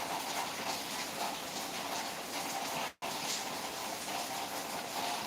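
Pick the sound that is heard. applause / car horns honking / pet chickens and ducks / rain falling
rain falling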